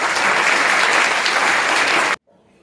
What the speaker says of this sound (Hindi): एक बार सर के लिए तालियां